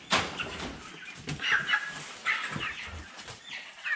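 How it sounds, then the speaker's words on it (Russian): Fifty-day-old broiler chickens in a poultry pen give off scattered clucks and short bursts of wing flapping, several birds close by, irregular and moderately loud with brief quiet gaps between calls. "Вот курочка."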